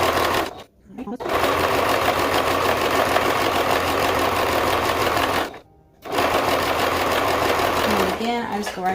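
A sewing machine stitching a car seat cover runs in long continuous bursts, its fast mechanical hum pausing twice briefly, close and loud with a voice faintly underneath.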